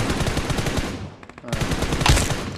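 Rapid automatic gunfire in the BGMI/PUBG Mobile video game rattles in fast bursts, briefly dropping to a quieter stretch before resuming loud and close.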